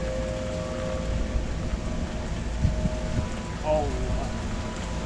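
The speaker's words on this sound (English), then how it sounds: "The rain's moving in on me." Steady rain falls during a thunderstorm, a continuous hiss with gusts of wind, while a faint siren tone lingers in the background and a brief knock or thump is heard midway.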